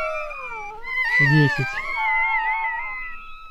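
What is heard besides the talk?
Rottweiler puppies whimpering, crying like kittens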